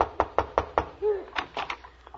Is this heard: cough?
no